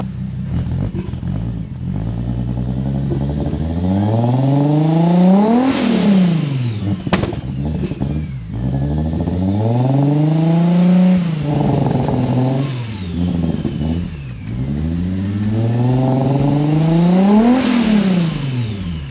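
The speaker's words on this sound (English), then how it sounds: "I'll give it a little rip now and see what it does. It's going to be all turbo noise now." A car with a new custom-built exhaust and turbo revs repeatedly, each blip climbing and falling in pitch with a whooshing turbo whir, loud and close with no talking.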